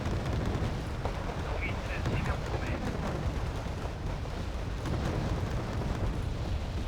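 Counter-rocket artillery in Wargame: Red Dragon keeps up a steady roar of distant explosions and rumbling fire, with occasional sharper pops over a continuous wash of noise.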